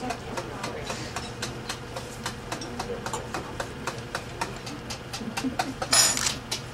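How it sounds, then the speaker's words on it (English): A whisk beats cream in a bowl in a steady, rapid rhythm of light metallic taps against the bowl, close and fairly quiet, with a brief louder clatter near the end. "As she's intently whisking the cream."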